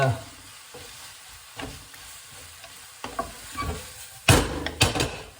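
Noodles stir-fry in a hot pan, with soft sizzling and intermittent scraping and tossing sounds from stirring, a few louder clatters near the end.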